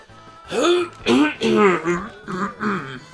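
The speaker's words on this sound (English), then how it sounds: "Just clearing my throat. My throat needed some clearing." A person clears their throat several times in a row, loud and close, with voiced rasping bursts separated by short pauses.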